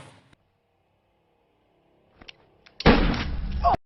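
A gunshot in the action film The Raid. The scene is quiet with a few faint knocks, then a sharp loud blast followed by a short, dense burst of noise.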